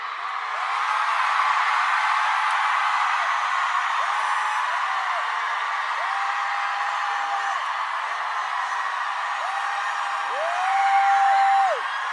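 A large crowd of women at a street march shouting together, a loud sustained roar of many voices with several drawn-out sung or yelled tones rising above it, swelling again near the end.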